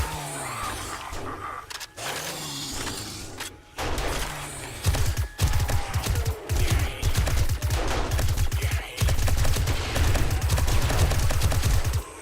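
Video game gunfire aimed at distant vehicles: loud, sustained rapid bursts with heavy thumping shots and a few short gaps, no talking.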